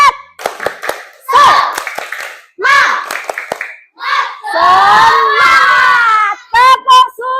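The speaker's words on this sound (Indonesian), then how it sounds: "Nah, sekarang tepuk tangan untuk kita semua." A class of children claps in unison as a group cheer, the bursts of clapping mixed with shouted chanting voices and a teacher's speech, loud and close in a classroom.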